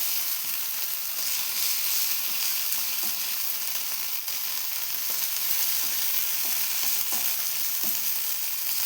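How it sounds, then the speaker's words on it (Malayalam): Masala-coated mackerel sizzles in a frying pan with a loud, dense, unbroken crackle of hot oil that stays close and steady throughout, with faint stirring taps and no talking. "അപ്പോൾ ഇവിടുന്ന് നല്ലോണം ഫ്രൈ ആവട്ടെ"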